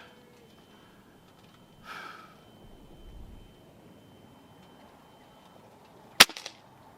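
A single sharp crack from a Gamo Swarm Magnum Pro 10x Gen 3i .22 air rifle firing a pellet at a 25-yard target, a brief snap with a quick rattling echo after several quiet seconds of faint rustling.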